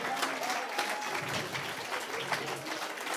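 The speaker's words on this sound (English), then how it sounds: "give another warm round of applause for Ernie." Sustained applause from a crowd, a dense and steady patter of many hands clapping at once, filling the whole stretch without letup.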